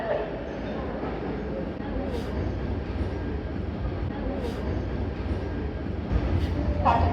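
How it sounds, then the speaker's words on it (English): A Sydney Trains Mariyung electric train rolls into Hurstville Station with a steady, moderately loud rumble and a faint high whine. "We welcome you all to the exciting arrival of our new Mariyung train service here at Hurstville"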